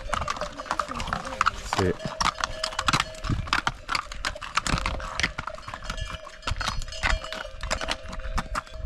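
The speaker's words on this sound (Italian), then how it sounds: "Questo è un cavallo che va da solo." Horse hooves clip-clopping in a quick, steady rhythm on a rocky mountain path on Mount Olympus, close and loud, with a person speaking briefly over the hoofbeats.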